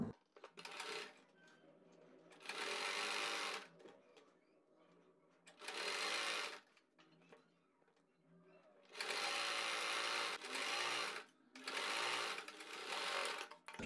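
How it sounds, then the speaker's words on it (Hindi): A sewing machine stitches along a cord set into fabric for a neckline design, running in four distinct bursts of steady whirring separated by quiet pauses, close and clear. "इस डोरी के बराबर बराबर हम सिलाई लगाकर इसको कंप्लीट करेंगे अंदर।"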